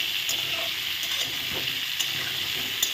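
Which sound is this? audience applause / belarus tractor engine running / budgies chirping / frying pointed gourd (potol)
frying pointed gourd (potol)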